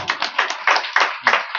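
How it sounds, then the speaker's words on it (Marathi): A kirtan audience in Govandi claps, a short burst of several quick hand claps close by, uneven and lively, without any voices. "महाराजाच्या मुलासाठी टाळ्या होऊ द्या"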